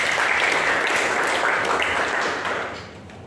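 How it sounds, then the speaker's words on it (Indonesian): An audience applauds a speaker in a classroom or training session, with steady dense clapping that fades toward the end. "Kasih tepuk tangan buat dia."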